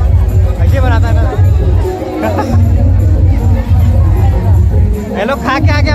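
A crowded dinner gathering at a church deanery event fills the space with dense, loud hubbub: many overlapping voices chattering nearby, with nearer speech rising above the steady babble throughout.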